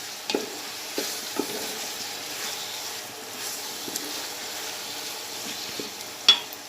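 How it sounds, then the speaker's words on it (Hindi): Tomatoes fry gently in a pan for mutton biryani, a low steady sizzle broken by occasional spoon scrapes and taps, close and fairly quiet. "ये देखिए, इसमें मैंने टमाटर डाले। अब ये नरम होने तक, पिघलने तक इसको मैं पकाऊंगी।"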